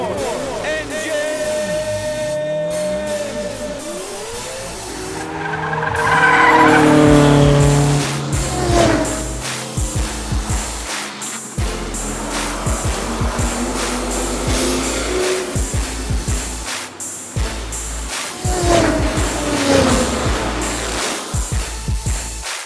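A race car engine at the Richard Petty Museum cranks, then fires and revs loudly up close, roaring and rising in pitch before settling into a rough, throbbing idle with repeated blips of the throttle.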